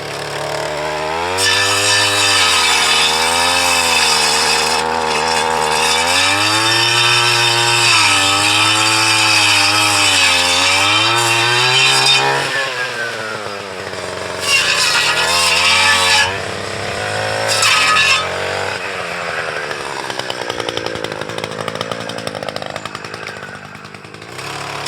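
An Echo PAS-225 weed eater fitted with a tree saw attachment cuts through a branch, its small two-stroke engine buzzing loud and steady as the pitch bogs and recovers under load, then revving in short bursts before dropping to idle.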